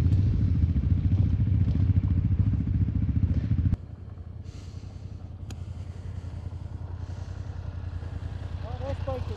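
A motorcycle on the Colorado Backcountry Discovery Route rumbles loudly nearby with a steady engine drone, dropping in level partway through as it heads down the trail, with chatter and clatter mixed in.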